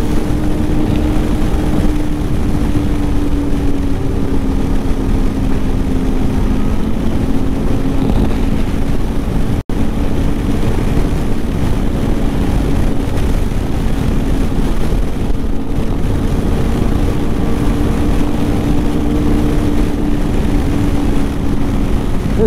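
A 2020 Polaris Indy XC 600 snowmobile running on trails, its engine droning loud and steady close by, the pitch rising and falling gently with the throttle, uninterrupted throughout.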